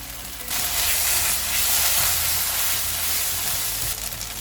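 Boiled sweet corn going into a hot pan of spinach curry sets off a loud, steady sizzle and hiss that holds for several seconds, then eases slightly at the end.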